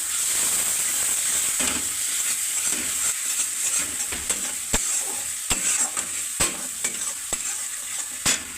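Fish frying while spices are sautéed in a pan: a steady, close sizzle runs throughout, punctuated by sharp clicks and pops of a utensil stirring against the pan, with no talk.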